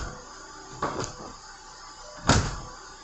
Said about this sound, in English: What happens when you open the door too fast and the window doesn't have time to drop?